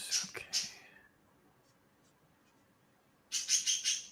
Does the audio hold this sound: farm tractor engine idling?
no